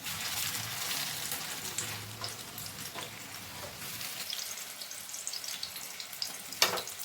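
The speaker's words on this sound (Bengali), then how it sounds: "এটা এই দিকটাও আবার ভাজা হবে" An egg fries in a pan with a steady, moderate sizzle and occasional light clinks, ending in a sharp tap.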